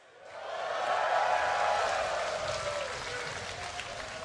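A live esports crowd at a North American League regional semi-final match between TSM and Curse breaks into loud, sustained applause and cheering that swells quickly, then slowly fades while still filling the arena.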